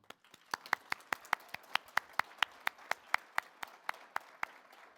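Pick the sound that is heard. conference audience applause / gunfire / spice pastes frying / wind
conference audience applause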